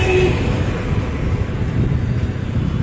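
Constant roar of busy road traffic, loud and close, with passing vehicles and wind noise blending into a steady rumble.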